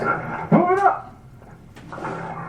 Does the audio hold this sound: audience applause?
no